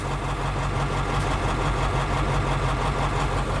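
A 1956 Studebaker Golden Hawk engine idles steadily right after its first start, a close, even, continuous rumble with no talk over it.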